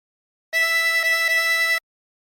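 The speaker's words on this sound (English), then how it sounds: "Blow into 5 3 times." A harmonica blown through hole 5 gives three short, even, bright notes run closely together, played alone and clear for about a second.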